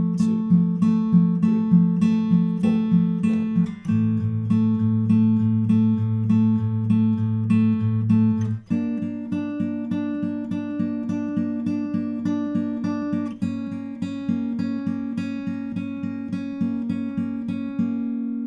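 Close acoustic guitar fingerpicking the second verse of a song, a steady rolling pattern of plucked notes that shifts through several chord changes, played alone without any voice.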